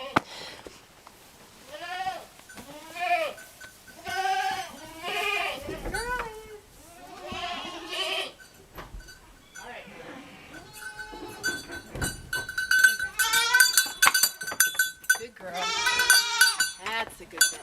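A goat bleats repeatedly at a wooden milking stand on a small farm, loud wavering cries in bursts, with someone talking to the animal in between and metal clinking later.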